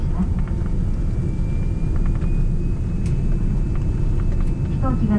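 An airliner taxis at Haneda airport after landing, its engines a steady low rumble inside the cabin, with faint chimes and some cabin noise.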